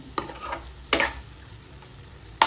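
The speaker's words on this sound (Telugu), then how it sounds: "వేసుకొని బాగా మిక్స్ చేసుకునేయాలి మొత్తం." A spatula scrapes and stirs a pan of frying prawns, three sharp strokes over a soft background sizzle, close by with no speech.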